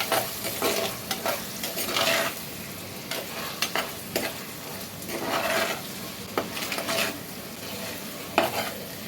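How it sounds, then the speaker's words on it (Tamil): Chicken liver fries in oil with salt and turmeric, a steady sizzle broken by repeated stirring scrapes in the pan, close and continuous with no talking. "உங்கள் தேவைக்கு ஏற்ப உப்பு மஞ்சத்தூள் சேர்த்து நல்லா வதக்கி விட்ட அப்புறம் அந்த எண்ணெயில் நல்லா ஃப்ரை ஆகட்டும்"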